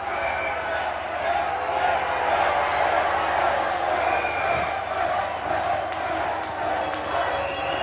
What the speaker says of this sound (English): this capacity crowd chanting whip, whip